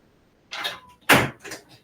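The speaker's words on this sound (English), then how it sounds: "So let me just close the door" An indoor door being closed: a soft swing and rustle, then a sharp, loud latching thud close by, followed by a fainter rattle as it settles.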